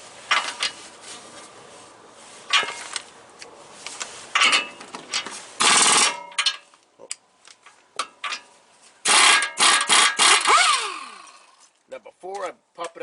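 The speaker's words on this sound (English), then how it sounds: "I'm going to bust the outer tie rod loose" Several loud, harsh bursts of a power tool or ratchet bust loose the 21 mm nut on the outer tie rod of a 2009-2020 Ford F-150, separated by quieter clicks and gaps, with a voice talking in between.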